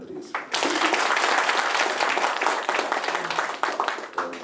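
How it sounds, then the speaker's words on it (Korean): Dense, loud clapping from an audience at a 2023 Yangju residents' forum with a National Assembly member bursts in after a brief pause and carries on steadily to the end. "다시 한번 오늘 이 자리에 함께해 주신 정성우 국회의원님께 박수 한번 부탁드리겠습니다."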